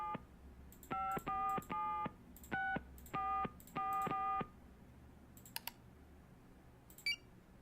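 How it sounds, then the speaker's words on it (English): Telephone number dialed in a Nancy Drew video game set in Japan: a rapid sequence of about seven distinct DTMF keypad tones in quick bursts, followed by a few faint clicks, clear and close with no speech. "We're gonna enter Nancy's phone number."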